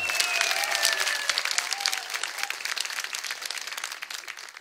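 Lively audience applause for a folklore dance team at a Tokat association gathering, dense clapping starting strong and slowly tapering over several seconds, with some crowd noise mixed in.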